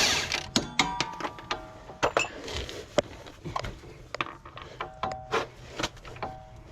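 A ratchet fitted with an 18 mm socket works on the engine of a 2008 Nissan X-Trail T31 with a blown 2.5 L motor, giving bursts of quick, close clicking and metallic clatter, with no voices.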